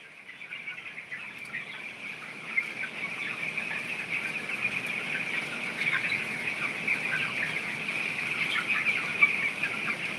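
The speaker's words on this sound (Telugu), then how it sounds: "అన్నీ కూడా కోళ్ళు బాగున్నాయి కానీ ఈ షెడ్లోనే కొద్దిగా చిన్నవి పెద్దవి ఉన్నాయి" Chickens in a poultry shed, a flock of mixed small and large birds, give continuous overlapping clucks and calls at a steady moderate level throughout, with no talking.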